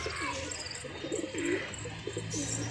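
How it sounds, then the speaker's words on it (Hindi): Pigeon cooing while chasing its mate in a loft, several low throaty coos in bursts, close and moderately loud over steady background chirping and hum. "कबूतर उसकी मादी को बहुत दौड़ा रहा है।"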